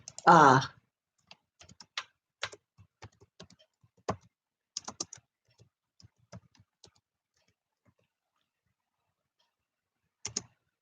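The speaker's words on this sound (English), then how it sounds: "I'm gonna type the name of the" Scattered keystrokes on a computer keyboard, sparse clicks and short bursts of typing at close range against near silence, with a brief voice at the start.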